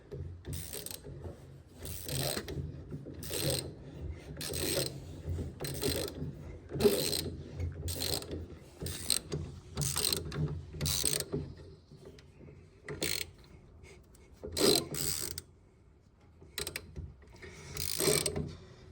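A ratchet clicks in repeated short bursts while tightening a bolt on a big brake kit being fitted to a Toyota MR2, close and crisp, with brief pauses between strokes.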